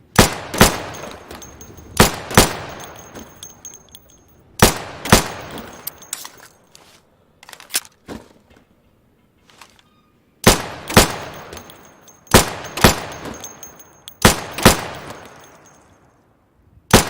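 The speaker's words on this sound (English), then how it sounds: "So you can shoot accurately over 20 feet with your sidearm." Pistol sidearm fire at pop-up targets in the video game Insurgency: loud, close single shots in quick pairs and short bursts, with brief gaps between groups of rapid reports.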